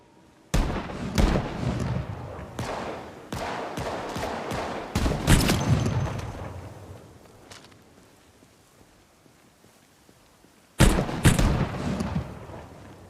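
Shotgun blasts from a bandit in the zombie survival game Project Zomboid, a burst of several loud booming shots over about five seconds, then a quieter stretch before one more blast near the end.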